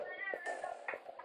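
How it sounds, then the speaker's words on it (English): A cat meows several times, a short series of close, fairly clear calls, while it waits by a door wanting to be let outside. "there is a cat that wants to go outside"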